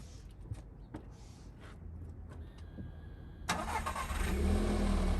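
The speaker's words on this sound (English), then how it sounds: "start the car up" A 2009-era VW Golf Mk6 1.4 TSI on its stock twin-pipe exhaust cranks and fires up about midway, some clicks and faint mechanical noises before, then a loud rising engine start settling into a steady rumbling idle.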